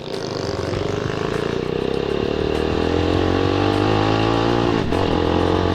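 A GPR250 motorcycle fitted with an SC1-R muffler revs loud and close, engine pitch climbing steadily in first gear before a brief dip near the end.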